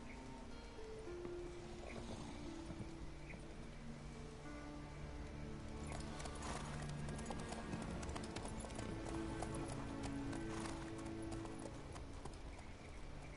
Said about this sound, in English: Now that takes skill to ride with both legs on one side on a horse.